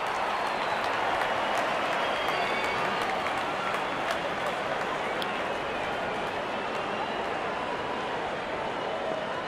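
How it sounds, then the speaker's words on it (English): Stadium crowd applause in the cricket video game Real Cricket 22 rolls on steadily as a loud, unbroken wash of clapping and cheering. "Goes to a splendid 50, good innings, and gets a grand applause."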